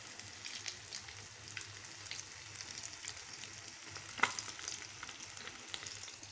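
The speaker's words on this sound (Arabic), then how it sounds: "هي نحطوها في المقلة تكون سخنة الزيت" Breaded chicken pieces fry in hot oil in a pan, a soft, steady sizzle with faint crackles and one brief sharper pop, quiet and alone.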